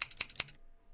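Scissors effect from the Roblox game Bee Swarm Simulator: three quick, crisp snips in rapid succession, close and clean, followed by silence.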